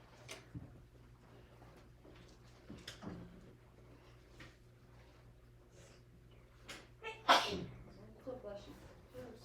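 A single sneeze rings out in a classroom, short and sharp against the quiet room murmur, with faint shuffling and a teacher's voice nearby.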